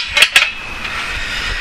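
Metal plates or grill grates placed on a camping stove in a camper van give two sharp metallic clanks close together, followed by a faint ringing hum.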